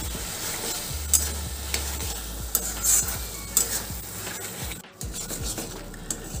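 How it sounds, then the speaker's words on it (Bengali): Taro leaves with coconut being stir-fried in a wok over high flame, a constant sizzle with repeated rhythmic scrapes and knocks of a spatula against the pan. "ফ্লেমটা হাই করে ভালো করে কষিয়ে নেব।"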